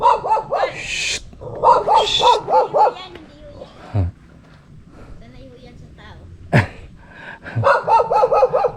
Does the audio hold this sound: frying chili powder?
no